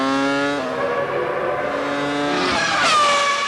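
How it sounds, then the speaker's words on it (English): A 2000-season Prost Formula One car on a qualifying lap, its high-pitched V10 engine screaming close and loud, pitch dropping briefly as it downshifts, then sharply rising again under acceleration. "Local favourite Jean Alesi drives his Prost to the limit, setting a good opening time"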